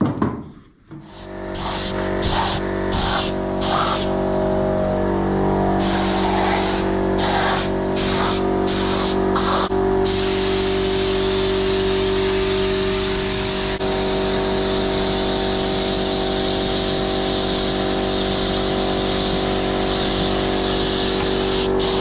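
Primer spray-painted onto the wheels of a Zetor 6711 tractor under restoration, a loud steady hiss running almost unbroken, opening with a few short bursts before settling into one long continuous spray.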